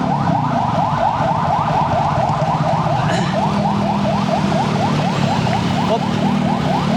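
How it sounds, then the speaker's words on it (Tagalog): An ambulance siren wailing in rapid repeated up-sweeps, loud and close, layered over the steady drone of a motorcycle engine on a city road, with no talking. "Iwas tayo, may ambulansya."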